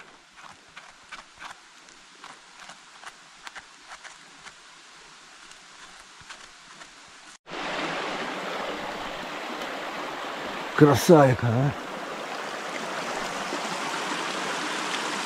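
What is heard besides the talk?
river stream flowing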